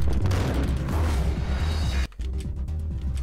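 A Molotov cocktail is thrown and bursts into flame in the video game Max Payne, sounding as a loud, continuous booming roar with dense crackling. It cuts out briefly near the end and then resumes.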